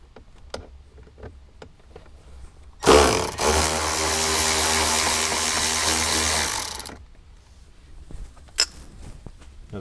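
A power tool with a 7mm socket spins out speaker screws on a 2021 Ford Bronco, one loud continuous whirring burst of about four seconds, close by, with quiet handling clicks before and after.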